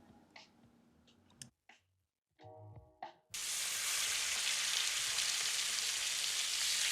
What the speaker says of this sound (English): We are going to cook the eggs and separate them on the side.